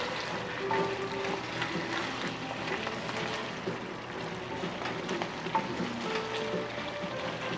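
Onions and beef flank sizzle in a hot pan while cooking bulgogi, a steady crackling fry with small pops and clicks running throughout at moderate level, no talking.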